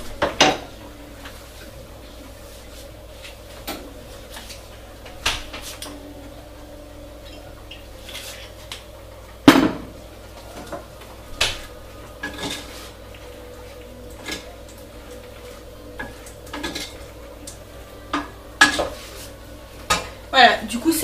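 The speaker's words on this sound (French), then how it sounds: "je vais mettre un filet d'huile d'olive dedans et je vais mélanger un petit peu" Pasta stirred with a drizzle of olive oil in a pot, heard as scattered close clinks and scrapes of a utensil against the metal, with occasional louder knocks over a faint background hum.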